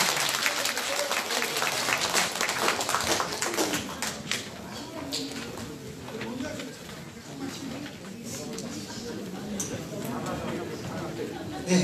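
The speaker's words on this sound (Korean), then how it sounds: "큰 박수 좀 부탁드리겠습니다" Audience applause at a Hwaseong citizens' regional meeting in Dongtan, a loud burst of many hands that slowly thins out while scattered chatter and a few louder individual claps carry on underneath.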